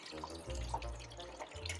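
Water runs from a tap to dampen skin, a faint, steady splashing flow with some dripping, heard briefly and quietly without speech.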